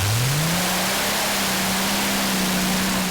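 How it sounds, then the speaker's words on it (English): A pulling tractor with twin supercharged Rolls-Royce Griffin engines running on methanol revs hard at a Eurocup tractor pulling event in Brande, Denmark. Its loud engine note climbs quickly in the first half second, then holds a steady, continuous high-RPM drone. "Lots of engine RPM"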